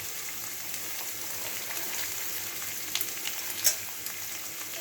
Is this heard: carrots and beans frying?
yes